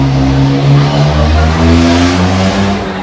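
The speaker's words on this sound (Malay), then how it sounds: "tak relax bunyi kereta dia" A car engine revs hard close by, a loud, steady droning roar that swells and eases across a few seconds with no pauses.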